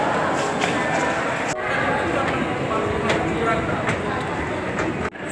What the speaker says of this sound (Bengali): এ হলো দক্ষিণেশ্বর স্টেশন।